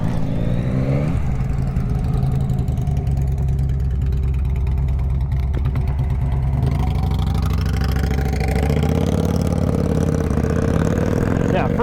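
A 2023 Yamaha MT-09 SP motorcycle engine running steadily on the road, with a downshift into first gear, a droning rumble that shifts pitch partway through, loud and close under wind noise.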